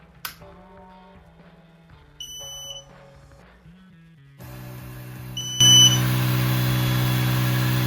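Creality Falcon 22W laser engraver starting up with its air assist: a series of electronic beeps and tones, then a loud, steady blowing hum from the air pump that continues to the end.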